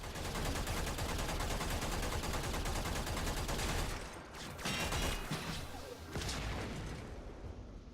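Sustained automatic fire from a Braton Prime rifle with magnetic damage in Warframe, a dense continuous rattle of shots with impacts and brief pauses, loud and close throughout.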